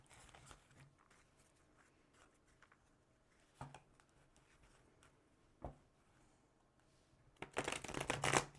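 Tarot deck being shuffled, soft papery riffles and taps, faint and sparse with a few sharper bursts and a louder flurry of card noise near the end.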